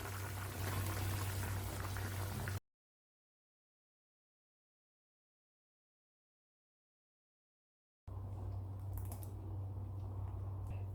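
Chettinad chicken curry with masala bubbling in a pot, a steady dense simmering hiss with a long silent gap in the middle, no talk.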